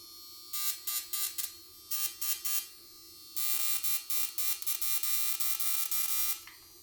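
An anti-aging skincare zapping device gives off harsh electric buzzing in repeated short bursts, then a longer near-continuous stretch of pulsing buzz, close by and fairly quiet.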